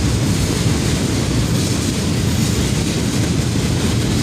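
A CSX freight train hauling a long cut of gondola cars rumbles past close by, a loud, unbroken roar of wheels and rail noise with some wind buffeting and no voices.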